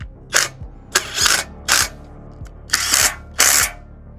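A ratchet tightens bolts on a Haul Master trailer, giving bursts of rapid metallic clicking in about six close, loud strokes with short pauses between them and no talking.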